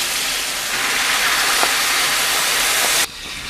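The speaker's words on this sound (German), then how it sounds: "So, löschen wir das Ganze noch ab." Liquid poured into a hot Dutch oven while cooking cabbage rolls hisses and sizzles loudly and steadily as it deglazes, then cuts off abruptly near the end, leaving a quieter background.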